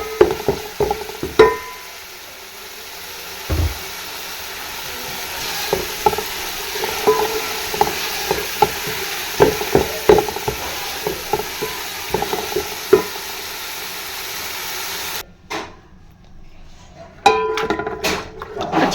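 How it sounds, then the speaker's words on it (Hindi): Food sizzles steadily in a hot frying pan as a tempering of green chilli, garlic and ginger paste is cooked into mustard greens, with repeated scraping and stirring clatters, fairly close, and a brief pause near the end before stirring resumes. "साग को लगाने लगे हैं तड़का"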